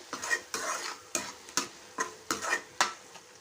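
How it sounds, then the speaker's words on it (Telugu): Tomato paste fries with ginger garlic paste in a pan. Quiet, regular stirring strokes repeat about every half second over a soft sizzle, with no voices. "ఇప్పుడు టమాటా పేస్ట్ వేస్తున్నాను ఈ టమాటా కూడా పచ్చివాసన పోయే వరకు అయితే ఫ్రై చేసుకోవాలి"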